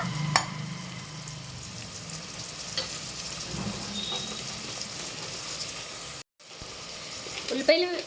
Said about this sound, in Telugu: ఉల్లిపాయలు వేగుతున్నాయండి